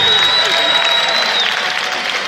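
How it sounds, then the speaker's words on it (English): A crowd at a live boxing match in an arena applauds both fighters, a loud, continuous wash of clapping and crowd noise with a voice mixed in. "a well-deserved round of applause for both our warriors"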